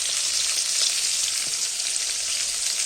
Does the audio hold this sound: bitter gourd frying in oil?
yes